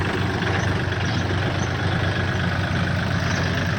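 A Kubota L4018 tractor fitted with a front dozer blade and disc harrow, its diesel engine running at a steady idle, a continuous low rumble with no speech.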